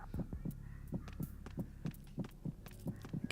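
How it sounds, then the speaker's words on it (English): Snake's heartbeat in Metal Gear Solid 2 thumps in a steady, regular rhythm of low, close thuds over a faint hum, roughly three beats per second, with no talking. "can you hear Snake's heartbeat?"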